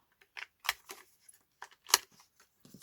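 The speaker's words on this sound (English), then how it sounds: "So let's cut off these offensive corners" Scissors snipping the corners off paper ephemera, a handful of sharp close cuts spaced irregularly against near silence.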